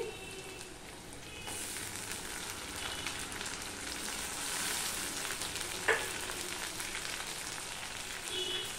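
Soft, steady sizzle of chopped tomato going into a pan of frying fish eggs, a quiet bubbling crackle with a slight rise as the pieces hit the oil and one brief clink; no talking.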